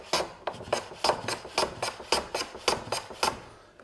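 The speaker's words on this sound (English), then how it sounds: "I'm gonna just make a pass here, and you're gonna see the shavings" A hand plane takes repeated strokes across end grain wood, about a dozen crisp rasping swishes in a steady rhythm, close and fairly loud with no talk.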